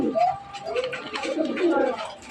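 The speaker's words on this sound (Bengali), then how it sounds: "এই হলো এক জোড়া মনে করেন গলা কষা দেখার মতো লাল মুখী কবুতর" A pair of red-faced pigeons coo in soft, repeated low calls close by, overlapping with someone talking.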